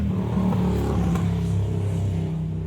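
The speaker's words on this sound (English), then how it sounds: "Motorcycle." A motor vehicle engine rumbles steadily with a revving, low drone throughout, like a motorcycle going by close at hand.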